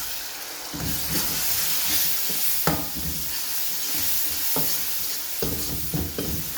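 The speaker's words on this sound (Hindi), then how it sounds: "30 सेकंड तक मैं मसालों की भुनाई करूँगी ताकि मसाले अच्छे तरीके से कुक हो जाएं" Spices and tomato fry in a pan for seekh kabab masala gravy, producing a steady, close sizzle broken by recurring stirring clatters.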